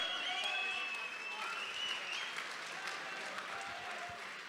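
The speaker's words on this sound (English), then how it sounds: "How about a round of applause for these two guys?" Crowd at an MMA event applauding two fighters, a broad, distant roar of clapping and cheering that holds steady, with a whistle-like tone rising through it early on.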